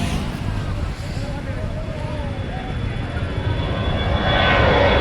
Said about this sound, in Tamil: இங்கே பாருங்க ஃப்ளைட் வந்துட்டு இப்போ பறக்க போகுதுங்க